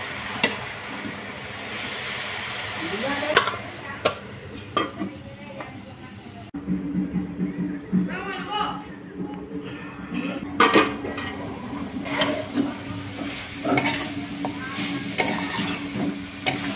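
Shushni greens with spices stirred and frying in a pan, with a steady sizzle, scraping of a spatula and light clinks of utensils against the pan, while someone talks over it.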